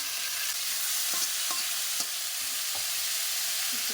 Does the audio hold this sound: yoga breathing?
no